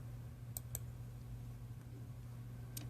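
A computer mouse gives three quiet, crisp clicks, two close together early and one more near the end, over a low steady hum in a quiet room.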